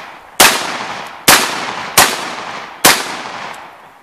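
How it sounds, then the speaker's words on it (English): A Benelli M4 shotgun fires Remington 1 ounce slugs: four loud, sharp blasts at uneven intervals, each with a short decaying tail and no voices in between. "All right, Benelli M4, Remington 1 ounce slugs."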